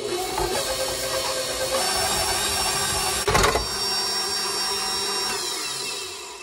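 An electric hand mixer whirs steadily as it creams butter and sugar for a lemon bundt cake, a continuous close motor drone with a brief louder rattle partway through and no talking.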